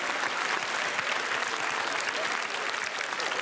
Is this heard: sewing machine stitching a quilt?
no